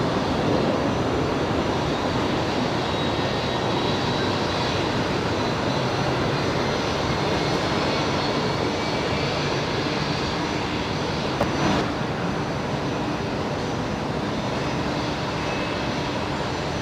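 A Boeing 737 jet taxiing out for departure at Brisbane Airport gives a steady, fairly loud engine roar and whine that holds level throughout, with no voices.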